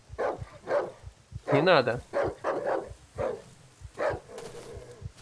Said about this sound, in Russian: будет на меня лаять